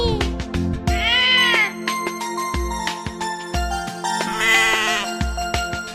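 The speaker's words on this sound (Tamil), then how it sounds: "அமைதியான ஒரு விலங்கான ஆடும் நானே" A goat bleats twice with quavering cries, set among plucked musical notes and percussive beats in a children's rhyme, with sung voices nearby.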